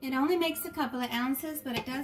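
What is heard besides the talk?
None of the usual background noises is heard.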